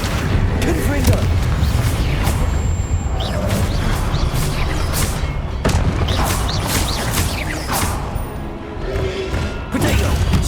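A Confringo blasting spell explodes in Hogwarts Legacy, a dense, loud run of booming blasts and crashes that rolls on for the whole stretch with no pause.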